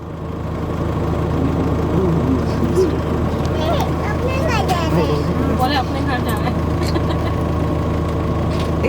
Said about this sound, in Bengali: দাদা ইঞ্জিনটা বন্ধ করে দেন না একটু